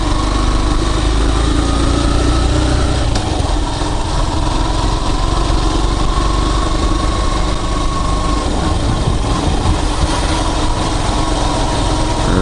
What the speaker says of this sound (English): the bike seems to be running pretty good